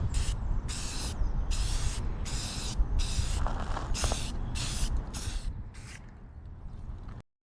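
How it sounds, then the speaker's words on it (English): A spray can hisses in about nine short, evenly spaced bursts while painting a part on a Miata rescued from the scrapyard, close and loud, followed by a low steady background hum. "it's way easier to paint this now"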